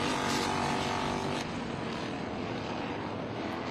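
Helicopters passing over the New Jersey Motorsports Park racetrack during an F4 U.S. Championship race under the pace car, a steady, distant aircraft engine drone, faint and continuous with a slight drop in level partway through.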